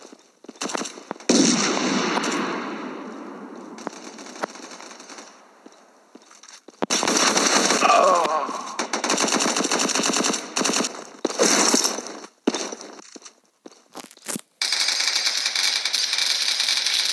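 Rapid bursts of automatic gunfire and sharp blasts from a round of CS:GO mobile, loud and close, in uneven clusters separated by short quiet gaps, with a thrown grenade among them.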